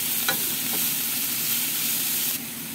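Ground meat sizzles steadily in a hot pan, a continuous close frying hiss with a few faint scrapes of stirring.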